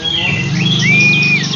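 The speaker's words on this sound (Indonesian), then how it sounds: "Nah, ini si pejantan lagi berkicau." A male olive-backed tailorbird (ciblek) sings near its nest, rising and sliding high whistled notes over a constant low hum and background noise, close and clear.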